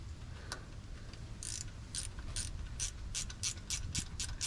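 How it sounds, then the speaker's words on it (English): A 5/16 ratchet wrench works bolts while a Jeep Wrangler TJ transfer case is installed, giving quick close clicking bursts of the pawl in an irregular rhythm that speeds up toward the end, with no talking. "I'm using a 5/16 wrench."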